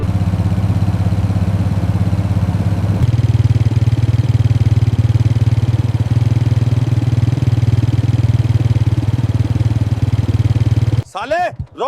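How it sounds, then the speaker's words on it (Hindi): A Royal Enfield Bullet motorcycle approaches and settles into a loud, thumping idle close by, running steadily before a voice cuts in at the end. "कोई आर्मी वाला बुलेट से आ रहा है।"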